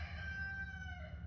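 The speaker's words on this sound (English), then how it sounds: "Rooster says thank you too" A rooster's single drawn-out crow, moderately faint over a low background rumble, holding a steady tone before trailing off.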